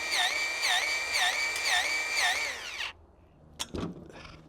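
A TaskStar electric grease gun whines steadily with a pulsing motor drone for nearly three seconds, then cuts off, followed by a couple of faint clicks and handling knocks.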